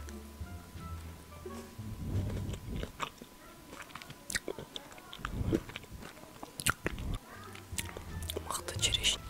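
Cherries eaten close to the microphone in an ASMR setting, with soft wet bites and chewing in irregular bursts and quiet whispered talk between them.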